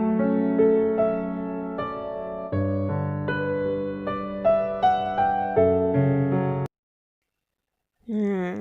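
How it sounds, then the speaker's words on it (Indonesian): A piano plays a short melodic phrase of distinct notes over sustained lower chords for several seconds, clear and close, stopping into silence before a voice begins speaking. "itu adalah bunyi dari alat musik piano"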